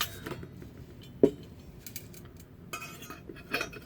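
The small metal grate from a Kelly Kettle cook kit being handled, light metallic clinks and taps close by, with one sharper knock amid quieter rattling.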